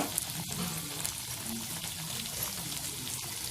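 Chicken pieces frying on a tava, a soft steady sizzle heard close up with faint clicks of a utensil against the pan.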